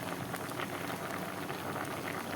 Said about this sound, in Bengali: আমগুলো সিদ্ধ হয়ে এসেছে।